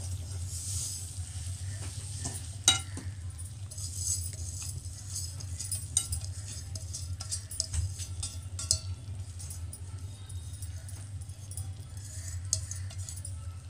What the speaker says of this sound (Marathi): आपल्याला कंटिन्युअसली हलवत राहायचं आहे